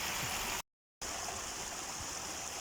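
Water from a mountain spring in Qatar rushes in a steady, loud, close stream, cut by a brief moment of silence before the flow resumes.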